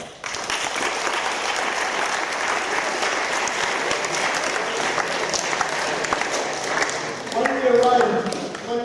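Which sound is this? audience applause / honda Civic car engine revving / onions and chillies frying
audience applause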